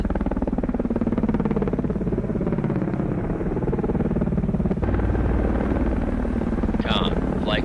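Aircraft launching from the carrier Admiral Kuznetsov in the naval game Cold Waters, a loud, steady rotor-like thrum that continues throughout, with a short whooshing rise near the end.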